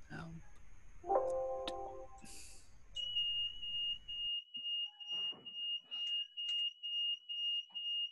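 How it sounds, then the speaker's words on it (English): A tripped alarm, likely an electrical training panel's, sounds a steady high tone with a repeating pulsed beep for the second half, after earlier clicks and tones, with faint talk in the background. "You hear that alarm?"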